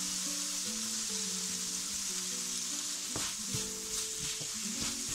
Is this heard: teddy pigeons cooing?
no